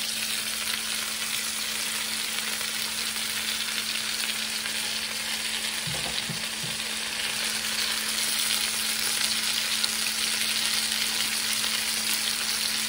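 Filling frying in a pan, a steady, loud, close sizzle that continues without a break, with a few soft stir or scrape sounds near the middle and no talk.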